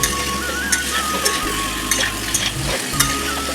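Vegetables just added to an unwashed kadai frying in oil, a continuous close sizzle with repeated stirring scrapes and light clinks of a utensil against the pan.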